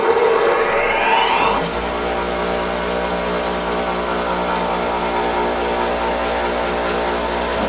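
A bench grinder grinding a lathe tool: a high steady motor whine with harmonic hum, a rising spin-up sweep in the first second or so, then continuous running drone, close and loud.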